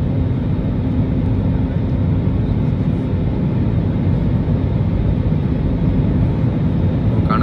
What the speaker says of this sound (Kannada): ಫೈನಲ್ ಆಗಿ ಲ್ಯಾಂಡಿಂಗ್ ಆಯಿತು.